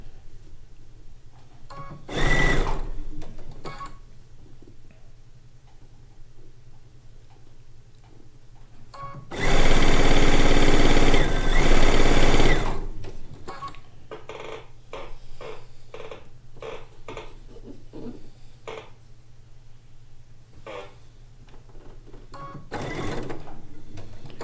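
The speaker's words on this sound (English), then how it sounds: "A nice travel machine to piece on." A small travel sewing machine pieces a quilt top in a hotel room, with one sustained loud run of stitching and a couple of shorter bursts, amid quiet clicks and handling noises.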